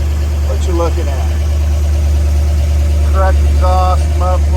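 A 1963 Ford Galaxie 500 XL with a 427 engine and correct exhaust and mufflers idles in a steady, loud low rumble throughout, with brief faint tones over it.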